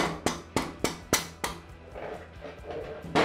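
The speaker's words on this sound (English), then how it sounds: "right now I'm just tapping out the axle and using a long drill bit" Five sharp, evenly spaced metallic hammer strikes ring out up close as an axle is tapped out with a long drill bit, followed by quieter rustling and one more hit at the end.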